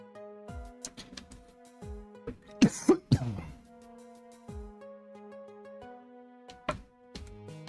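A persistent cough breaks out in a short cluster of harsh throat-clearing bursts at close range, set against soft, steady background music that continues before and after.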